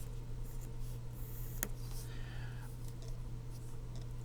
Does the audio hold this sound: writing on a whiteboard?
yes